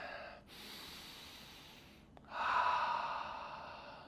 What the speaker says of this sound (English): Starting in mountain pose with some breathing.